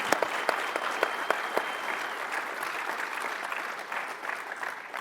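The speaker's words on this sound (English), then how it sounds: "I was hoping we could all give her a really, really awesome round of applause" Applause from an audience at a Microsoft security conference session, a dense, even patter of many clapping hands with a few sharper claps early on, fading slightly toward the end, heard alone and at moderate distance.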